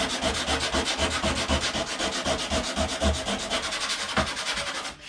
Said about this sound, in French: Maintenant on va poncer tranquillement, on va poncer à l'eau.